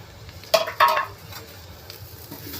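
Moong dal tipped into hot oil in a cooking pot for khichdi, giving two quick clattering, sizzling bursts close by, then a low, quiet background hiss.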